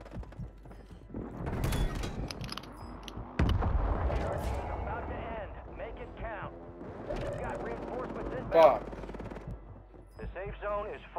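Gunfire in the video game Call of Duty: several loud bursts of shots in a chaotic mix, with player voices talking over the action and game sound effects throughout.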